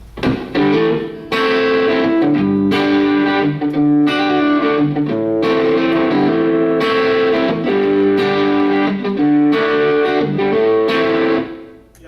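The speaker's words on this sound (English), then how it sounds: "If you want to add a little bit of grease to it, a little bit of distortion" Taylor electric guitar with a touch of gritty overdrive, strumming chords and riffs continuously, loud and close with no voices.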